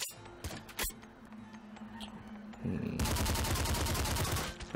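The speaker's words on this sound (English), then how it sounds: "Just gonna smart gun the hell out of that robo dog, mutant dog." Smart gun fire in the video game Nuclear Throne, heard as a loud, rapid stream of evenly spaced automatic shots that starts partway through after a few scattered effects and keeps going to the end.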